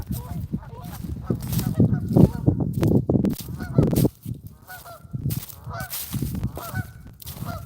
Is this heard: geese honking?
yes